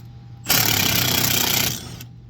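A ratchet or impact driver on the bottom rear shock bolt of a Honda Pioneer 1000 side-by-side fires in a loud, harsh buzzing burst lasting about a second and a half, close up.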